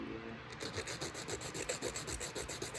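A nail file rasps back and forth across a fingernail in quick, steady, even strokes, close up and continuous, with no talking.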